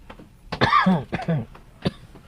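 A person clears their throat and coughs close by, a short raspy burst followed by a harsher rumbling hack and a final brief cough, with no other sound around it.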